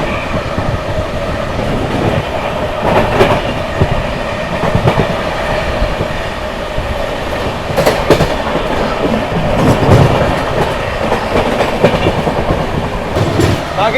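The 12826 Jharkhand Sampark Kranti Express runs at speed, its wheels beating a loud continuous clickety-clack with rumbling carriages and occasional sharper rail clanks from on board.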